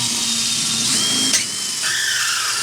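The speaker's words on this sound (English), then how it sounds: "should be able to just drill these two rivets out. So I'm going to get a 5mm metal bit" A power drill fitted with a 5mm metal bit whines steadily while drilling out rivets, its pitch dipping and shifting as the bit bites, loud and close.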